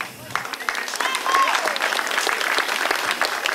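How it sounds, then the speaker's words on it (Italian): Applause from an audience at a fashion show in Naples, sustained clapping rising after a quieter start, with some sharp nearby claps and a brief whistle. "Accogliamolo con un applauso."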